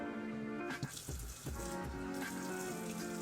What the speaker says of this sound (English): you just gotta hit it with a little water